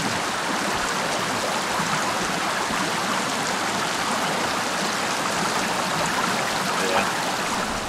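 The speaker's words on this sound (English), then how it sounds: "So, watching the water fall down from inside the box." Steady rushing water from a waterfall in the Sons of the Forest survival game, a dense, continuous broadband wash that holds at an even loudness throughout, with no clear talk over it.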